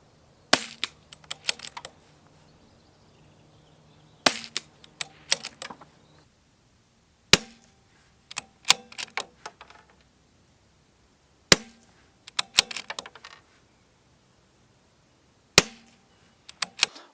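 A CZ 457 rifle fitted with an Aeron chassis fires about five sharp, loud shots several seconds apart. Smaller mechanical clicks and clatter follow each shot, with quiet gaps between.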